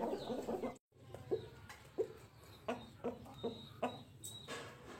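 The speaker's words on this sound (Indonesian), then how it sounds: "maka ayam tersebut akan bergerak aktif, ada yang berkokok" Chickens, including a rooster set out sunbathing, cluck in short repeated bursts at close range, with scattered calls over a quiet yard background and no clear full crow.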